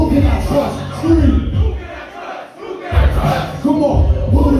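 A live hip-hop concert crowd in San Diego screams a call-and-response chant together, loud and close, in repeated bursts with a brief dip in the middle.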